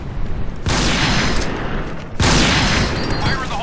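Gunfire in a team shooter match, two heavy sustained bursts of rapid shots and booms, loud and close, with a voice talking underneath.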